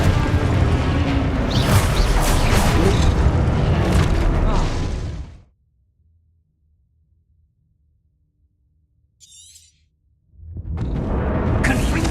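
Confringo explosive spell cast in the video game Hogwarts Legacy, a loud rumbling blast with crashing debris, then near silence before another roaring burst; a voice talks over parts of it.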